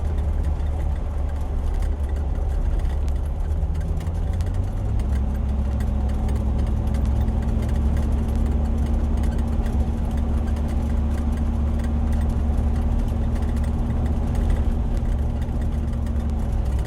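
Land Rover Defender 90 50th Anniversary engine drones steadily while cruising in top gear at just over 50 mph, a continuous loud low rumble with a tone that settles higher after a few seconds, no talk.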